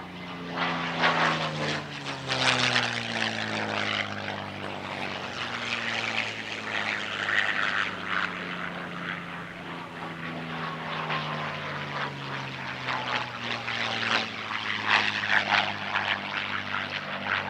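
A pair of P-51 Mustang propeller fighters fly past at the California International Airshow, their engine roar swelling and fading with sliding Doppler tones, heard from a distance with no talk.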